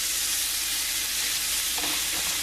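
Food sautés in a hot pan for angel hair pasta with turkey pepperoni, a loud, dense, continuous sizzle close by with no voices over it.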